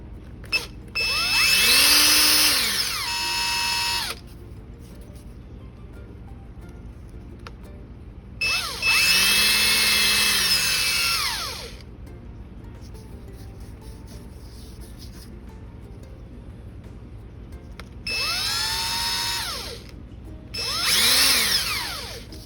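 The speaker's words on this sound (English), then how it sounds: "you can smooth these out with a drill now" A power drill smoothing metal on a Skilsaw 1616 chainsaw whirs up and down in four bursts, close and loud, with quiet pauses in between.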